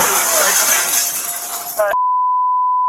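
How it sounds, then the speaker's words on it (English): Window glass shatters during a police standoff, a dense crash of breaking and tinkling shards lasting almost two seconds before cutting off abruptly into a steady tone. Voices are heard around it. "He just shattered a window."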